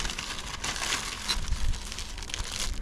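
Newspaper wrapping crinkles and rustles as something is unwrapped in a junkyard barn, a continuous papery crackle close by, with no talk over it.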